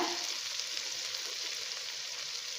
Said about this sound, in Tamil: ஸோ இப்போது இதெல்லாம் நல்லா வதங்கிடுது.